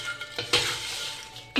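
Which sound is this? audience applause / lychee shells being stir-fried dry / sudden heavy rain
lychee shells being stir-fried dry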